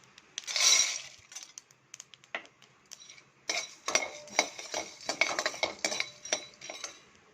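Peanuts are stirred and tossed in a pan for roasting while making black kavuni rice laddu, giving a close run of dry rattling, scraping and clinking, sparse at first and then busier and more continuous.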